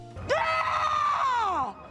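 A character in a film scene lets out a sustained, high-pitched scream of nearly a second and a half, loud and close, rising sharply and then sliding down in pitch as it ends.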